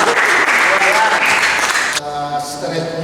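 Group applause for Selvi, a participant at a basic journalism workshop, loud and dense for about two seconds before dropping off as a voice begins speaking.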